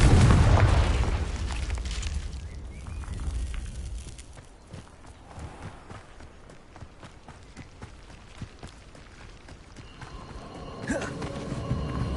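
Confringo spell blast in Hogwarts Legacy, a loud booming burst at the start that fades into quieter scattered crackles, thuds and footsteps.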